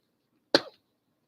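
A single short, sharp cough, close by, in otherwise near silence.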